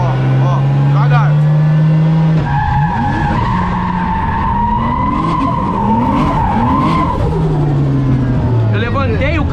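A car with a 550-horsepower engine drifts, its tires squealing and skidding in long wavering screeches over a loud revving engine, while people talk throughout.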